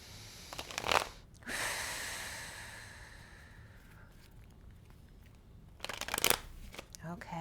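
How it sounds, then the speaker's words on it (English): Tarot cards riffle-shuffled by hand in a few quick bursts, with a longer crisp shuffle early on and another flurry near the end, close and fairly loud over a quiet room with soft breathing between. "Okay, just a couple more shuffles here."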